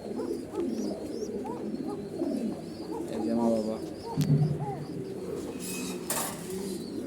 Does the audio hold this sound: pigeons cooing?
yes